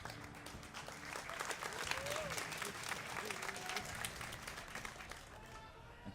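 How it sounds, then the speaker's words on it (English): Tournament crowd at a DreamHack SteelSeries StarCraft event cheers and applauds loudly and steadily for French player Adelscott, a dense wash of clapping and voices that carries through the clip before easing slightly at the end. "make some noise for the comeback French champion"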